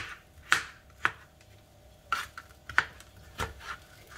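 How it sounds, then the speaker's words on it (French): A knife chops mushrooms into small dice on a cutting board, producing quiet, irregular taps and thuds spaced about half a second apart, close up and with no talking. "Je coupe mes champignons comme ça,"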